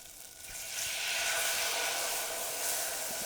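Sake poured into a pan of garlic butter sizzles and hisses steadily, the broadband fizz swelling louder after the first second and holding close and continuous with no talk.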